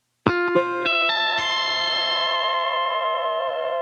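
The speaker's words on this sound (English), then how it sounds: "that's a vibrato" Electric guitar run through chorus and distortion effects on a Stratocaster, notes plucked and then a chord left ringing with a subtle whammy-bar vibrato wavering the pitch, loud and close.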